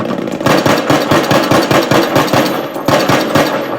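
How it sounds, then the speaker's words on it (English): Gunfire from a Battlefield video game played through an Insignia mini soundbar: rapid repeated shots in steady bursts, loud and close, heard without speech. "we're in some battlefield, we get some shots off in it"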